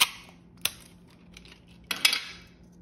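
Craft material being cut in half for a mini plate charm: a few sharp, isolated snips and clicks, one at the start, one shortly after and a pair near the end, close and quiet in between.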